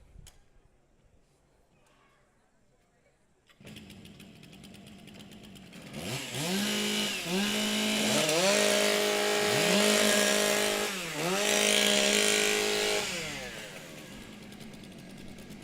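Several chainsaws rev up at a STIHL Timbersports women's and rookie championship in New Zealand, loud rising and falling whines after a quiet start, with repeated throttle blips over crowd noise.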